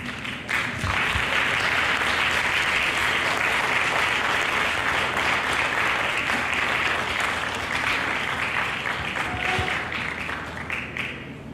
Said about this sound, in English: Please an applaud for Amira.